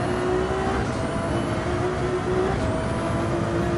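Race car engine note and tyres on the Nürburgring Nordschleife in Gran Turismo 7, the car in oversteer as its tyres give up, a loud steady drone with a rising whine, alone without talk.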